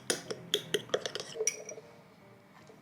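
A spoon stirs spice mix into hot water in a cup, giving a quick run of bright clinks against the cup's sides that fade out after about a second and a half.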